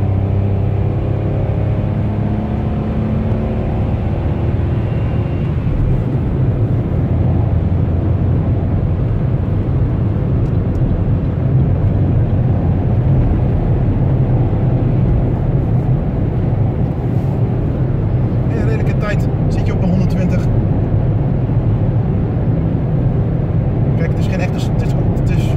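Suzuki Celerio Comfort 2017 accelerating onto and driving along a highway, a steady loud engine and road rumble filling the cabin, with a voice talking over it throughout.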